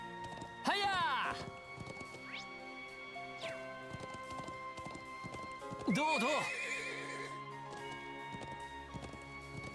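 Horse hooves clip-clopping and two loud neighs from a horse being ridden in the game Trails of Cold Steel IV, the whinnies well apart over steady hoofbeats, with a brief spoken word.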